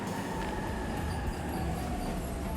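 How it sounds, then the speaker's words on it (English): A train pulls in within the 13 Sentinels video game, a continuous dense rumble with a faint high whine from the wheels, steady in level throughout and with no one talking. "Train's already here."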